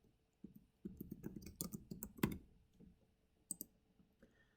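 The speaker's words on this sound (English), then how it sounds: "double click on the text and you can type in your name" Quiet, close mouse clicks and a burst of keyboard typing as a name is entered, uneven clicks and keystrokes clustered in the middle with a couple of later taps, no voices.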